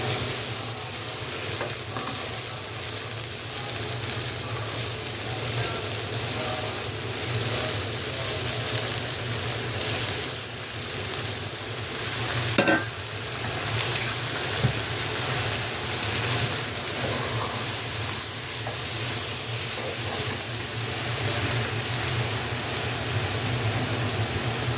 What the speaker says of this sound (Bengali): এখন আমি মাছগুলো এর মধ্যে দিয়ে দিচ্ছি। এটাকেও পেঁয়াজের সাথে একটু ভাজা ভাজা করে নেব